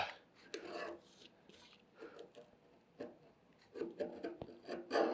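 Close, repeated rasping scrapes of a tool pushed hard across cold rolled steel clear weld spatter off the metal. The strokes are uneven and effortful and run steadily with no talking.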